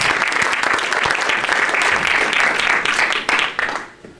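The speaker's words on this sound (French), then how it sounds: "Voilà, vous pouvez l'applaudir." An audience at a French small-business takeover awards ceremony applauds a prize winner with a thick, continuous wash of clapping that holds steady, then thins out and fades at the end.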